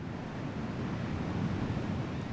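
Ocean surf of the Bay of Biscay on the west side of Cap Ferret, a steady broad roar of waves with some wind noise and no voices.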